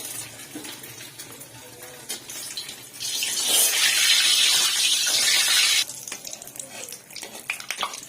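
Egg-dipped potato balls (batata vada) lowered into not-too-hot oil, giving a loud sustained hiss and sizzle for about three seconds before dropping back to quieter bubbling; no talking.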